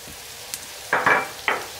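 A meatball mixture frying in a pan gives a low sizzle, broken by a few short, bright scraping bursts as it is stirred, each lasting a fraction of a second, close and without any voices.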